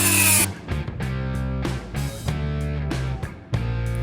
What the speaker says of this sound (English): And Dremel's the answer.